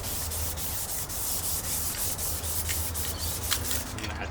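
Steady sanding of the body of an EK Honda Civic, a continuous abrasive rubbing with quick repeated strokes, close and fairly loud throughout with no talking.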